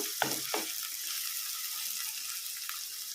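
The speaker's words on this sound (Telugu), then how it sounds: "ఉల్లిగడ్డ అయితే మంచిగా ఎర్రగా వేయించుకోవాలి" Onions fry in oil in a pan with a soft, continuous sizzle, and a few utensil knocks can be heard near the start.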